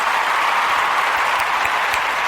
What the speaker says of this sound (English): So yeah, you clap it up.